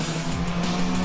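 A car braking in the racing video game Need for Speed ProStreet: a steady, loud engine drone with tire squeal running through the whole second.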